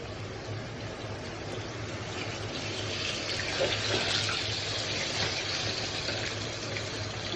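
Fish pieces frying in oil as the cooking nears its end, a steady hissing, bubbling sizzle that swells slightly midway and holds at a moderate level without any voice over it.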